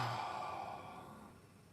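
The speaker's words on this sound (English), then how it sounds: "Take a few deep breaths." One deep exhaling breath during a relaxation session, a soft, close sigh that fades out slowly over under two seconds.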